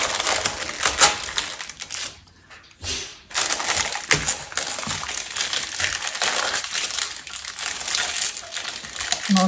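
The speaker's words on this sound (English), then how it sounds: "And then the cellophane just peels off" Cellophane peels away from cast resin bowls with a steady, close crinkling and crackling that runs throughout, dropping out briefly for a moment of near quiet before resuming.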